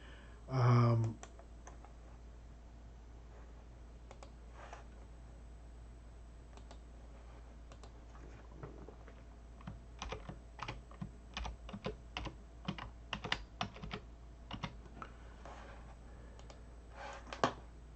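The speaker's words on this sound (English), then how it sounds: "So obviously I typed it wrong." A password is typed on a computer keyboard: one dull thump, then bursts of light, quick key clicks in uneven runs through the second half, close and clear with no talking.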